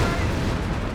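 A Panther tank's main gun fires during a Company of Heroes 3 match, heard as dense, sustained rumbling battle noise with booming low end and no distinct isolated blast.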